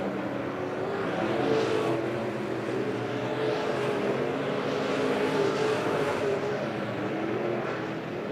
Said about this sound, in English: Keeter running that bottom line on the Yeoman-powered 52 machine.